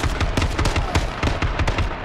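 Rapid bursts of gunfire in the video game H1Z1 crackle in quick succession, loud and sustained, with short automatic volleys repeating throughout.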